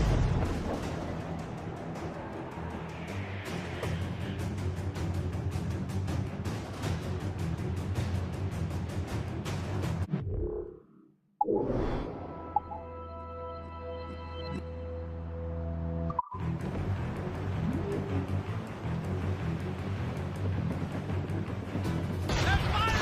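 Naval cannon fire in the video game Assassin's Creed Rogue during a ship battle, with loud dense booms and a steady roar filling most of the stretch and a brief quiet break midway.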